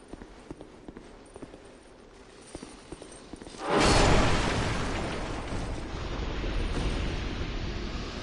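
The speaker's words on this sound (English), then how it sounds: "you got these enemies that explode" An exploding enemy in Dark Souls II goes off with a sudden loud blast midway, then a roaring rumble that lingers, after quieter scattered clicks and footsteps.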